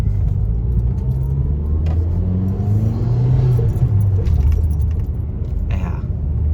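Modified Mazda Speed 3 engine idling and rumbling steadily up close, a deep continuous low drone with slight swells and a faint metallic jingle near the end, no talking.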